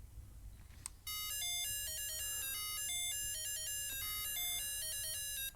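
A 1981 Grandstand Mini Munchman LCD handheld arcade game plays a tinny, high-pitched electronic beeping melody of rapid stepped tones. It starts after a faint click and continues steadily, thin and quiet, with no speech.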